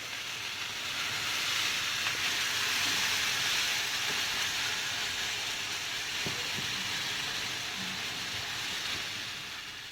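Idli batter spread on a hot oiled pan, giving a steady, loud broadband hiss that fills the whole stretch with only faint scraping and no talk.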